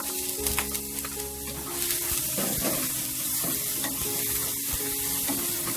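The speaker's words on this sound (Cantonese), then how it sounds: "爆一爆呢個蒜蓉、薑蓉。" Loud, steady sizzling of garlic and ginger in a hot wok with stirring and scraping, soft background music underneath.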